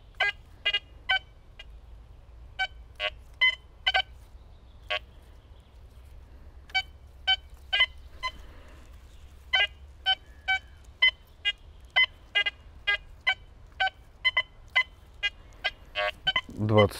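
A Quest X10 IDmaxX metal detector emits short, sharp beeps in irregular clusters and pairs, spread across the whole stretch over a low steady hum, moderately loud and near.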